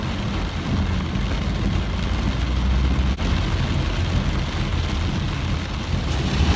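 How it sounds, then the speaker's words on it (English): Heavy rain drums steadily and loudly on a car's roof and windows, heard from inside the vehicle as a dense, continuous wash with no talking. "the rain's just nuts now"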